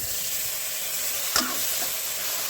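Vegetables go into a pan of hot water for an oil-free South Indian sambar, giving a steady hiss and sizzle with one brief clatter of stirring or dropping partway through.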